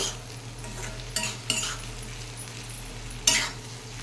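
Pieces of food fry in a pan with a steady low sizzle, broken by a few scraping stirs of a spoon against the pan, close and fairly quiet, with no talking.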